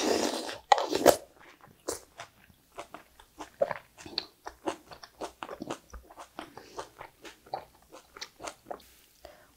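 Close chewing of braised napa cabbage outer leaves with meat from a pork bone stew, soft wet bites and steady chomping in quick rhythm, no talk.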